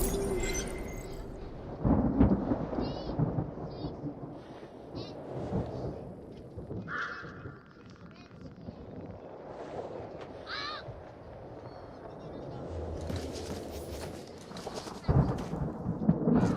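A surge storm rumbles in the SYNCED video game, low thunder rolling through a long dark ambience with scattered crackles and faint bird-like caws, building again toward the end.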